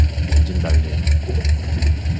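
An engine-powered boat idles on a river in Thailand, its motor chugging in a steady, regular pulse of low thumps, close and fairly loud, with no voices.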